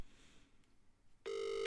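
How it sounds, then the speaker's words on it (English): A single short electronic telephone ring tone sounds near the end, clear and steady, after a quiet stretch with no talking, heard while placing a call. "It's ringing."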